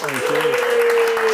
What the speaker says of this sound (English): Round of applause for Jeremie's